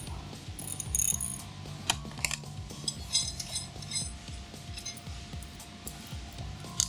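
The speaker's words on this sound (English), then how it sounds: "We'll take off the nut that holds the side liner on the outside." A nut holding a side liner on an IMPACTS S210E-40R is worked loose with a ratchet, giving steady rapid metallic clicking and scraping, close and moderately loud, with no talking.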